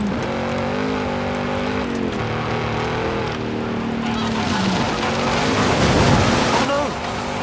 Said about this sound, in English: Are those howler monkeys?